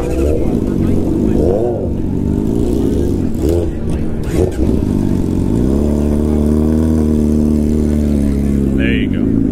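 Several motorcycles ride away outside a Cycle Gear shop in Milwaukee, their engines droning and revving loudly beneath someone talking throughout.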